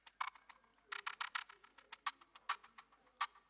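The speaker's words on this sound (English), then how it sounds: "This percussion loop on its own sounds like this." A quiet, crisp percussion loop for an afroswing beat, rattling shaker-like hits and clicks in a busy, syncopated pattern, with no other instruments.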